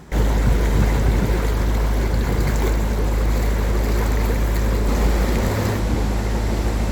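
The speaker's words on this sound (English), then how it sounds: "So I'm going to start the engine and we're going to get going." A loud, steady boat engine rumble drones throughout, with water and strong wind noise washing over it, close and unbroken.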